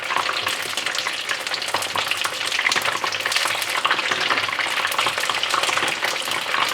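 Battered crocodile meat deep-fries in a pot of oil, producing a dense, constant, close-up crackling sizzle that holds evenly loud throughout.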